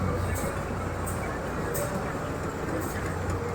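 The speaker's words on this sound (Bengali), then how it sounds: "এটা হচ্ছে ট্রেন গাইস ট্রেন ট্রেন" A small ride-on train moving, a steady dense rumble and rattle with faint periodic high squeaks, close and constant, with people talking during the ride.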